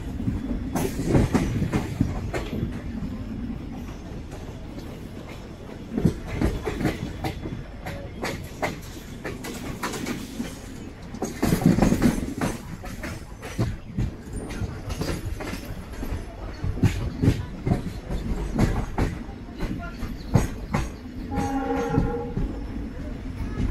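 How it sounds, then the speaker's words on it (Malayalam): A Madgaon Express train runs into the loop line at Udupi station, with steady rumbling and rhythmic clickety-clack of wheels over rail joints throughout, swelling at moments, and a brief squeal near the end. "ഉടുപ്പിയുടെ ലൂപ്പിലേക്കാണ് ഇപ്പോൾ കയറിയിരിക്കുന്നത്."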